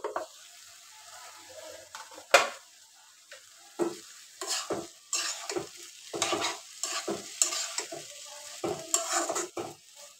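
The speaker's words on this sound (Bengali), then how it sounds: "আর এদিকে যে আলু ভাজিটা বসাই দিছি" A pan of potato bhaji fries quietly while being stirred, with soft sizzling and a run of scraping and clinking spatula strokes against the pan, one sharper knock early on.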